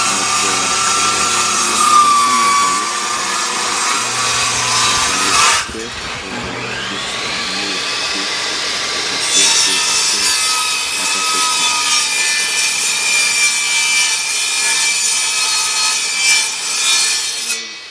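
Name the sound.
screwing furniture parts together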